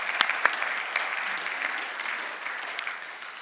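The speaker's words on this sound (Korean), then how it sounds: "하나님께 감사와 영광의 박수 한번 올려드리겠습니다" A church congregation applauds in thanks during a Sunday worship service, a steady wash of many hands clapping that holds evenly throughout, with a few sharper claps standing out early on.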